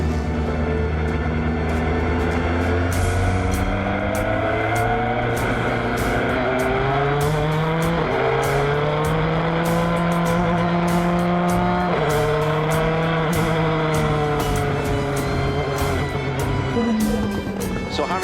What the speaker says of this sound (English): Harry Tincknell at the wheel of the Jota number 38 Zytek for the first time here at Le Mans